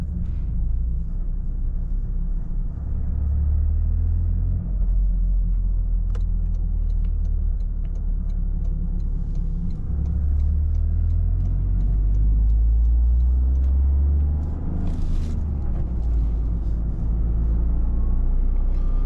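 A 2024 Toyota GR Corolla with a manual shifter drives along, its engine giving a steady low rumble over continuous road and tire noise inside the cabin, rising and easing with throttle.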